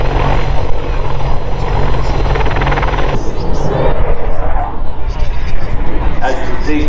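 A military attack helicopter with a radar dome mounted above its main rotor thunders at an airshow, its loud, steady rotor and engine roar filling the air while a commentator talks over it.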